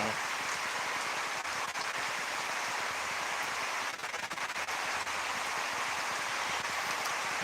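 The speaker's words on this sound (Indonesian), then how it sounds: "Berarti hujan panas" Steady rain falls outdoors near a home as a dense, even hiss that never lets up, with a few faint ticks of drops striking surfaces.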